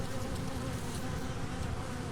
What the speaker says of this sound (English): They're just going to pile into that hive by the thousands.